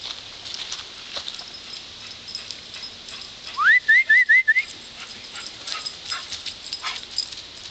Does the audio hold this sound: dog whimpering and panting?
yes